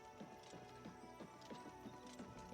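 The horse Shadowmere's hooves clip-clopping at a steady walking pace in the Oblivion Remastered video game, a regular rhythm of soft clopping beats, faint and without talk.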